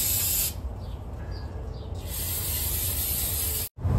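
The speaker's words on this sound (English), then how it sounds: "Spray these down with brake clean one more time." Brake cleaner aerosol hisses in bursts onto brake parts of a Cummins-powered truck, close to the microphone, with a brief pause and a final short spray near the end.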